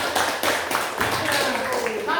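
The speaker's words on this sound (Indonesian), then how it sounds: "beri tepuk tangan untuk Bapak" A short burst of classroom clapping from students during a lesson on descriptive text, a few uneven claps close by with a voice speaking over part of it.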